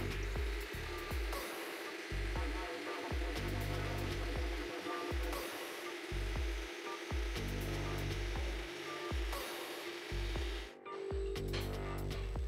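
An old Rockwell Model 7V bandsaw cutting tiles runs with a steady motor hum, and a repeated rhythmic chopping pulse rises and falls about every second, close and continuous with a short dip near the end.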